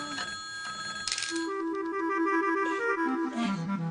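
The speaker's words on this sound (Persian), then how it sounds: "یکیتون جواب تلفن رو بده" A telephone rings indoors in a TV drama, its electronic ringing tone repeating in a stepped melodic pattern over a soft room background, with nobody speaking.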